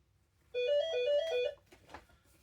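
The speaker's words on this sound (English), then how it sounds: "And no, I don't mean the telephone that's ringing." A telephone rings once in a short melodic electronic trill lasting about a second, clear and fairly near in a quiet room, followed by a faint murmur.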